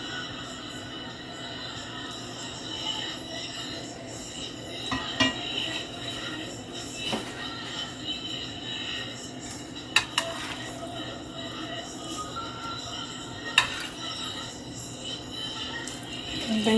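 Chicken and shrimp alfredo being stirred in a pot, a soft continuous scraping with occasional clinks of utensil on metal, fairly quiet and steady with a few louder taps.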